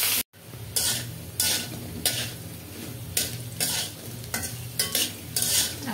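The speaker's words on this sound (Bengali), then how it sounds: "আলুটা আগে ভেজে নেব।" Potatoes fry in a pan for a dried-fish curry, a constant sizzle under about a dozen loud, regular scraping stirs of a spatula against the metal, close and without talk.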